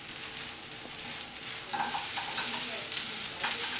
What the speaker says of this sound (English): Then you can add your cooked potatoes.